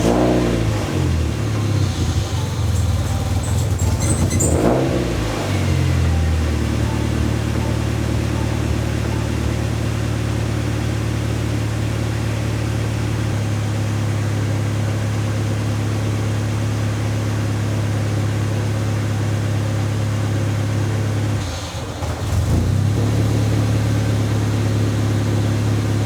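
A Mazda Miata engine idles steadily with a rough, uneven rumble, briefly revving near the start and again toward the end, close and loud throughout.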